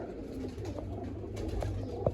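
Pigeons, both adults and young, coo faintly in a loft with low, soft, repeated murmurs and a little rustling.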